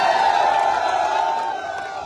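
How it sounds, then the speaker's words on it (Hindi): A crowd at a political rally cheers and shouts in welcome as a speaker is introduced, a brief sustained roar of voices that fades slightly toward the end. "सलमान रागिब जी जोरदार ताली से इनका स्वागत करें"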